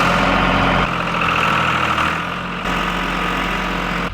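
Old tractor engine idling nearby on a farm, a loud steady low rumble with slight vibration, its pitch dipping briefly midway before settling back, no talk.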